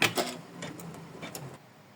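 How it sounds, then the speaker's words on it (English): An embroidery machine sews satin stitches on a small butterfly tag in variegated thread, making a quick run of faint, rapid ticking clicks for two seconds before fading. "So let's stitch our satin stitches."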